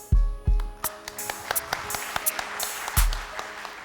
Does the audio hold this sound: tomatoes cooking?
no